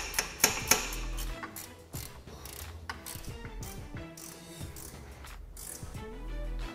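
Ratchet wrench clicking while fully tightening winch mounting bolts for a 4500 lb Black Ops Series winch on a Polaris RZR, with rapid ratcheting bursts, some clanks and pauses between strokes.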